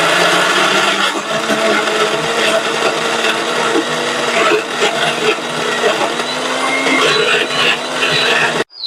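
A mixer grinder loudly whirring as it grinds a mutton kola urundai mixture in its jar, a steady, dense roar running without pause before cutting off abruptly at the end.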